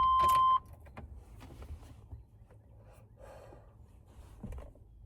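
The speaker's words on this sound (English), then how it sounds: "I'll crack the window a little bit" A truck's power window motor whines briefly as the window is cracked open a little, a steady, close hum that stops after half a second, leaving quiet cabin noise and faint breathing.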